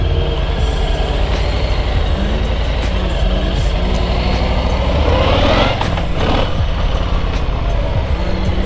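2021 Harley-Davidson Pan America motorcycle under way, with a loud, continuous engine drone and road rumble close to the microphone. A rising surge comes partway through as it accelerates, and no one speaks.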